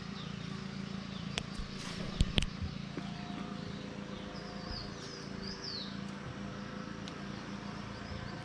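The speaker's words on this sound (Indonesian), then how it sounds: "Suara burung-burungnya." Birds call faintly in a forest wildlife reserve, scattered chirps and short rising whistles over a low steady hum, with a couple of sharp clicks near the middle and no clear talking.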